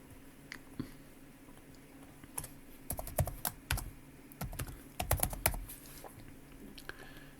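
Keys tapped on a computer keyboard while naming a button in VB programming, scattered single clicks and short bursts, close and moderately loud, with brief pauses and no talking.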